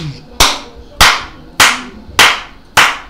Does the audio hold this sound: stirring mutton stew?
no